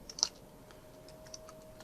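Light, scattered key taps on a computer keyboard, quiet and close, with irregular spacing and a faint steady hum underneath.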